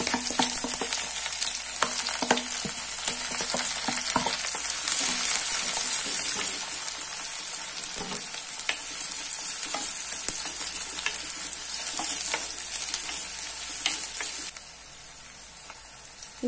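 Sliced onions sizzle steadily in hot coconut oil with fenugreek seeds for a Kerala-style mackerel curry, a continuous close crackle broken by occasional stirring scrapes, alone without voices, easing slightly quieter near the end.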